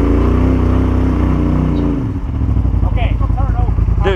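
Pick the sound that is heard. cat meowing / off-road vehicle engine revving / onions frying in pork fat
off-road vehicle engine revving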